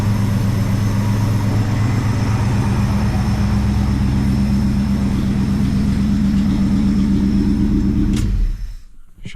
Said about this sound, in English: Actually, motor sounds real good, and I haven't even set timing yet or anything